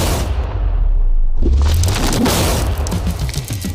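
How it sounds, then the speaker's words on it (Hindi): A loud, deep TNT explosion blowing up a safe rumbles and roars continuously for several seconds, with debris-like crackle and noise filling the space. "इस धमाके ने सच में मुझे डरा दिया।"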